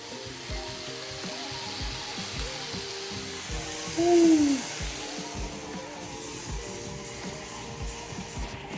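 Five spice chicken sizzles in a hot pan as liquid is poured in to deglaze, a steady frying hiss that briefly swells louder before settling back, with a short whistling tone over it.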